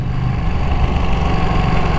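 A Ducati Panigale V2 V-twin motorcycle engine, stock exhaust, runs with a steady low, throbbing rumble close by for the whole stretch, loud and even with no talk over it.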